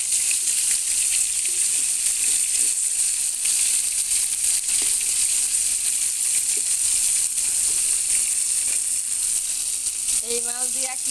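Fish frying in a pan gives a continuous, even sizzle close by, with faint clinks of handling and a brief voice near the end.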